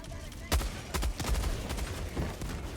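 A heavy machine gun fires in Helldivers 2 as a few sharp, booming bursts over a busy battle backdrop.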